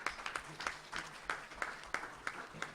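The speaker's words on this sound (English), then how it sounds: "So let's give him another round of applause." Sparse, rhythmic applause from a small audience at an informational meeting on the L.A. River revitalization bill, greeting Speaker Anthony Rendon; distinct separate claps, faint and distant.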